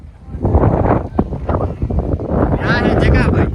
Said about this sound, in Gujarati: બહુ જ મસ્તનો પવન આવી રહ્યો છે.